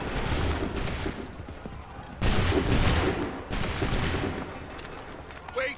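Musket volleys fire in the Assassin's Creed 3 video game in repeated broadband bursts, with sustained crackling gunfire throughout and louder volleys landing at intervals, dense and fairly close.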